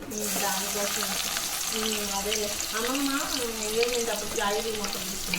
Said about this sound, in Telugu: ఇప్పుడు హీట్ ఎక్కిన తర్వాత ఆనియన్, పచ్చిమిర్చి వేసుకుంటాను.